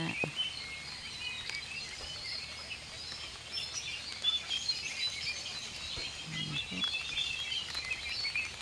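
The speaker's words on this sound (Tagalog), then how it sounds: "Ayan, umuulan na. Umuulan na po mga langga." Rain patters steadily and softly, with faint bird chirps scattered over the constant hiss.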